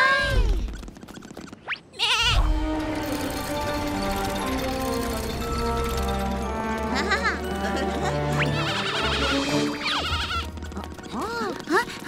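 A cartoon lamb in a kids' animated show bleats in wavering, quivering calls that repeat through a busy mix of background music and sound effects.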